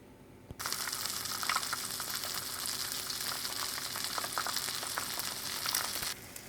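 An egg cooks in a pan, cooked over easy, for a bacon, egg and cheese English muffin breakfast sandwich. A steady, close frying sizzle runs unbroken for several seconds after a quiet start, then cuts off near the end.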